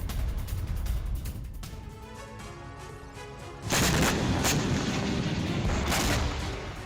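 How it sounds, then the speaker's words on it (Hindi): Heavy artillery shelling and a missile barrage in the Russia-Ukraine war. Dense, continuous rumbling booms roll on with no gaps, then a louder blast swells midway and sustained crashing fire follows, all distant and reverberant. "क्या गोले बारूद की ये रूसी मार और मिसाइलों की इतनी जबरदस्त बौछार बेकार जाएगी?"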